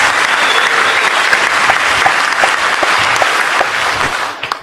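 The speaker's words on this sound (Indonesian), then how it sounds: "Tepuk tangan untuk Pak Beni." An indoor audience gives a warm round of applause for a guest, dense continuous clapping that holds steady for several seconds and then begins to fade at the end.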